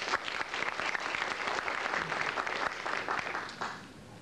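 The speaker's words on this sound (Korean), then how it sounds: "김수건 박사님을 박수로 맞이해 주시면 고맙겠습니다" A symposium audience applauds a speaker stepping up at a Korean-American organization's anniversary event, with steady dense clapping filling the room and tapering near the end.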